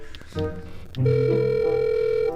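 A phone placing an outgoing call, with a short tone followed by a longer, steady electronic ringback tone that holds clear and fairly loud, with no talking over it.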